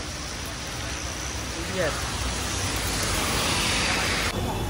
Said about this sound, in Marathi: आणि पाऊस पडायला चालू झाला